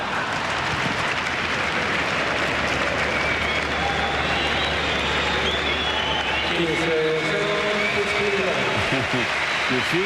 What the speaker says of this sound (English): A few whistles from the crowd